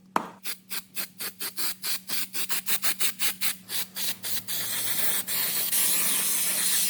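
An aerosol can of P-Tech underbody coating sprays onto a Mercedes rear differential in short rhythmic hissing bursts that speed up and merge into one long continuous spray, close and loud.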